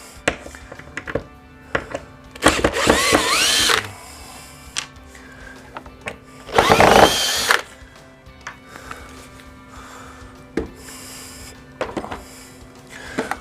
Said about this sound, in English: And then I'm going to go ahead and pull the screws out.